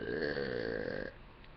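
A long, loud, croaking burp rolls on for about a second with a rich buzzing tone, then cuts off abruptly into quiet room noise, heard on its own with no talking.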